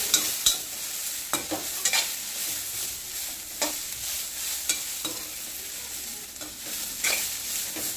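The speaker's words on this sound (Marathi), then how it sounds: "छान भाजायचं ह्याला मस्त पैकी." Cluster bean (gavar) dry stir-fry being roasted in a pan, with a constant sizzle broken by regular spatula scrapes and clacks against the pan, close and clear.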